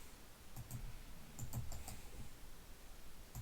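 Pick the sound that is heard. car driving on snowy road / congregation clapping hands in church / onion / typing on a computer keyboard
typing on a computer keyboard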